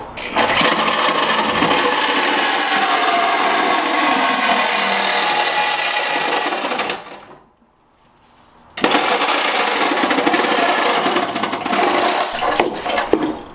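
A power tool cuts through the rear bumper of a Miata with an Ecotec engine swap, a loud continuous whining grind that stops briefly, then resumes just as harshly, with no talking over it.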